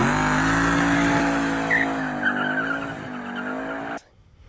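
An American muscle car skids with a long, loud tire squeal over a steady engine roar, sustained for about four seconds before cutting off abruptly.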